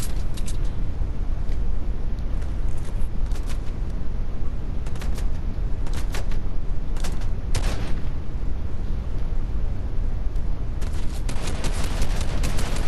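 Dense, continuous gunfire from a shooter video game, with repeated loud shots and bursts packed close together over steady game noise throughout, no talking.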